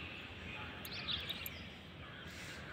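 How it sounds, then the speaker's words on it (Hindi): Birds chirping outdoors in the early morning beside a building, faint high tweets and short calls over a soft steady background hush, with no talking. "और एकदम चिड़िया ची ची कर रही है ना, इतना सुंदर उसका मीठा मीठा आवाज़ आ रहा है।"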